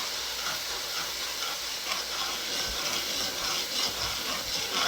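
A pot of Puerto Rican rice and beans with ham being stirred as it cooks, a steady, moderately loud simmering hiss and bubbling with soft scraping of the spoon underneath, and no voices.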